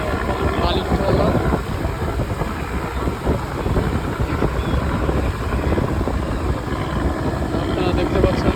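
A passenger ship and a sand-carrying cargo trawler cross on a river, their engines a constant low rumble mixed with heavy wind buffeting the microphone, loud and unbroken throughout.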